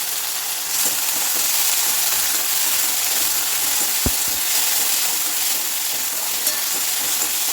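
Onions and chillies fry in a pan for a Chettinad-style yam dish, giving a steady, close sizzle with occasional stirring clicks throughout.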